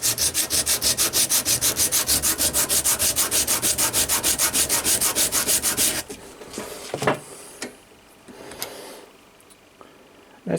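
A hand file draw-filed along a metal part, a fast steady rhythm of rasping strokes for about six seconds, followed by quieter scattered scraping and clicks, with no talking.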